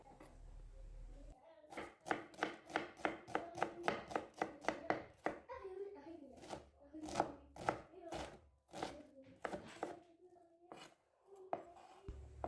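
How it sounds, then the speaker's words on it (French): A knife chops an onion finely on a cutting board for Moroccan vegetable soup, a fast run of sharp, even knocks followed by slower, spaced strokes, close and clear with no talking. "J'ai commencé par couper un oignon finement."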